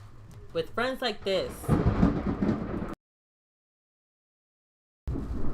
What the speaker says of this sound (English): Ooh, sorry y'all, that's the thunder and lightning.